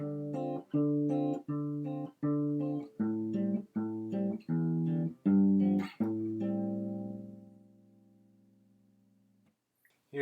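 Guitar riff, about a dozen evenly spaced plucked notes and chords in a steady rhythm, ending on a sustained note that fades away; close and clear with no talking.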